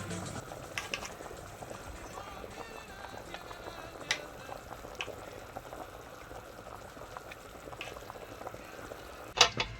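A pot of chicken broth simmers softly with a low continuous bubbling, broken by faint kitchen clinks and a sharp knock near the end.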